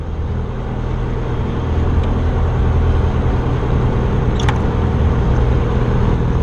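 A Jabiru 170 light aircraft engine droning loudly and steadily while the plane taxis, a dense continuous rumble heard from inside with no talk.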